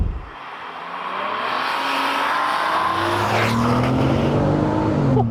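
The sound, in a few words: supercharged 500bhp VW Golf MK4 R32 engine accelerating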